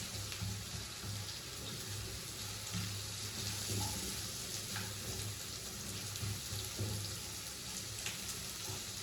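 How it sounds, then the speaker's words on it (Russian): Onion frying in a pan, a steady soft sizzle at low volume throughout, with occasional light clinks of a utensil. "сейчас немножечко лук обжарим"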